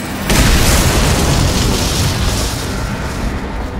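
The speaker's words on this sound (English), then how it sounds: "Explodes." A loud explosion in the stealth game Dishonored, a sharp onset followed by a sustained roaring rumble and debris wash lasting several seconds, heard alone.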